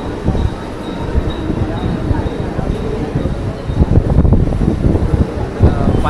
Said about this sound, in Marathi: आपली ट्रेनसुद्धा आलेली आहे.